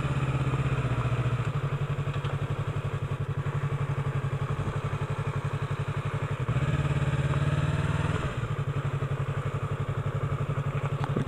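A Honda CB500 motorcycle engine idles steadily and close by, a rapid low throbbing that holds throughout with slight shifts in pitch.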